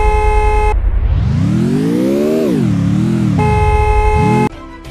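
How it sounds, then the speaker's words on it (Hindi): A Lamborghini's horn in the Free Fire video game sounds as a loud, sustained electronic honk that bends upward and back down in pitch, with steady synthetic tones before and after. "इसका हॉर्न सुनते हैं।"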